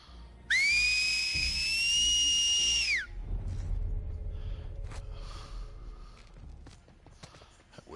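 A loud, sustained enemy whistle signal in The Last of Us Part II rises and holds for about two and a half seconds, then cuts off, followed by shuffling footsteps and scattered game noises.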